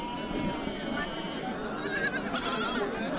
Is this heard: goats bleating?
yes